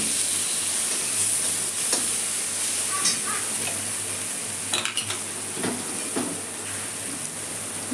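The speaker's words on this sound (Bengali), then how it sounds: "সমস্ত আমি উপকরণগুলো আমি ঘিয়ের মধ্যে ভেজে নিলাম" Chopped coriander leaves and spice powders fry in hot ghee with a steady, close sizzle throughout, punctuated by occasional scrapes and clinks of a utensil stirring in the pan.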